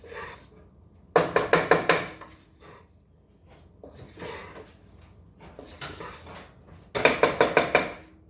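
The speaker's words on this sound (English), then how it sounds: "Stirring from the bottom, tipping up." Warm pasta salad dressed with oil being stirred in a pot, lifting from the bottom, heard as two bursts of quick rhythmic metallic scraping and clanking, close and fairly loud, separated by quieter shuffling handling sounds.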